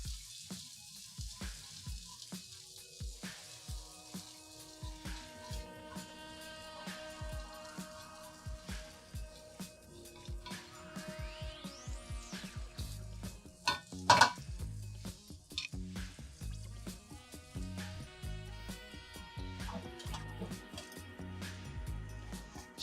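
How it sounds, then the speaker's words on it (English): Food being stirred in a pot on the stove, quiet sizzling with intermittent clinks and scrapes of a utensil against cookware, plus a few louder knocks midway, no talking. "A little stirring action."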